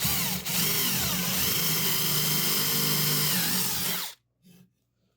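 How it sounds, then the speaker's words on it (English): A power drill with a Kreg pocket hole bit whirs loudly and steadily as it bores a pocket hole into wood at an angle, then stops abruptly, followed by a short final burst. "tipping the drill at an angle to cut the pocket"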